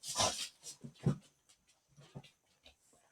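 A pet dog pants and gives small whimpers while trying to play, with quick breathy huffs and faint whines close by in a quiet room, fading to scattered soft sounds.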